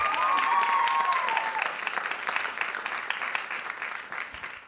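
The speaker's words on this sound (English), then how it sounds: "Let's give them a round of applause." An audience at a teen public-speaking event claps steadily, loud at first and slowly thinning out, with a brief high whistle of feedback at the start.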